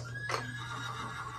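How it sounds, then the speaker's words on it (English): A toy horse gives a short electronic neigh, a single bright whinny rising and fading over about a second, close and clear with no talking. "Horse. Oh, you have horse too."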